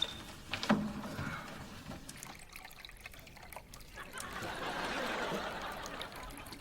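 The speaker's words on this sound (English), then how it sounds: "It's my waterfall." An indoor decorative waterfall runs with a steady trickling, splashing flow that swells louder in the second half, with brief voices and movement near the start.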